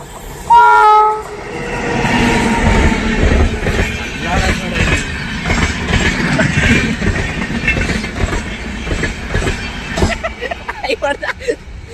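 A small train rushes past near Kavoor Dam, its horn blaring loudly at the start before a long, close rumble of wagons and clattering wheels, with people talking excitedly over it.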